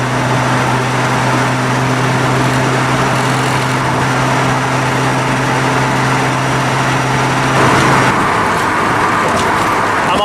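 A car drives a rough, bumpy stretch of Route 219 South near Bradford, Pennsylvania, with a steady, loud drone of road and engine noise inside the cabin. A low hum runs beneath it and shifts slightly near the end.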